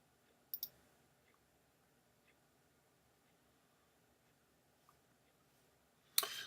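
A single crisp mouse click on a link, quiet and close, followed by a second brighter click at the end, with near silence between.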